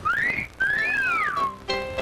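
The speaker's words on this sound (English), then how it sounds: "a man signals his lustful desires to a woman by using a wolf whistle" A wolf whistle from a man, a loud two-part rising-and-falling whistle, followed by a short burst of tonal sound.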